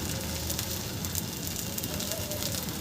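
Rava veg pola batter sizzling on a hot pan, a steady dense crackle and fry hiss that holds even and moderately loud throughout.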